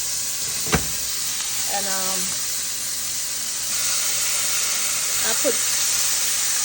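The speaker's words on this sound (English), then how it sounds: "So here go my shrimp going in. I just want them to sear, so I want my pot well hot." Shrimp searing in a well-heated pot, a steady sizzling hiss throughout with a few clinks and stirring sounds, while a person talks briefly over it.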